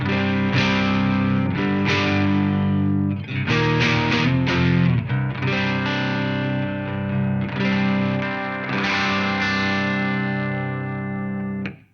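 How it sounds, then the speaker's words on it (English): Electric guitar played straight into the amp at gain 1, strummed chords and riffs with a full, slightly driven amp tone, steady and loud throughout with no talking. "let me give you the sound of the guitar straight into the amp"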